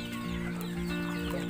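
A flock of backyard chickens clucking continuously, a busy, overlapping chorus of close, steady clucks with no talking.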